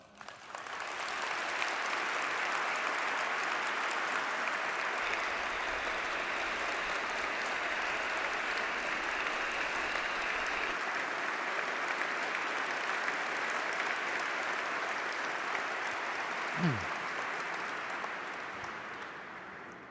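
Sustained, loud applause from a large audience at a Congressional Gold Medal ceremony for the Dalai Lama, steady clapping that fills the whole stretch and fades slightly at the end.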